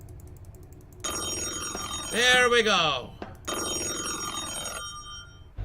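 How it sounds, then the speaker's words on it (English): Phone ringing indoors after a door closes, two long trilling ring bursts separated by a brief pause, loud and near, with a person's voice cutting in between rings. "my phone should be ringing by now"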